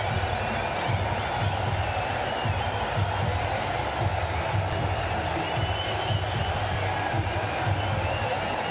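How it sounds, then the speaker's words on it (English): A huge stadium crowd roars continuously after a six is hit in an India vs Pakistan cricket match, a loud unbroken wall of cheering with no pause across the stretch. "With that 6, it's brought the crowd to its feet."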